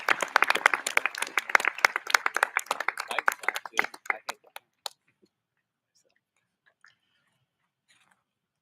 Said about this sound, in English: Let's give our teachers a big round of applause